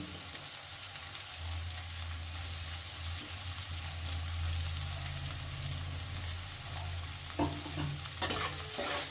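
Soaked flattened rice (poha) is stirred in a pan with a continuous scraping, shuffling rhythm over a soft sizzle, up close and steady, with a couple of sharper knocks near the end.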